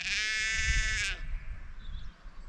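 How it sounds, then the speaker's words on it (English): A sheep bleats loudly and close by in a spring field for about a second, followed by quieter outdoor background noise. "the other sheep are shouting"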